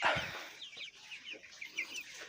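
Broiler chickens around 22 days old clucking in a farm pen, a near, steady stream of short soft clucks and chirps with no talking.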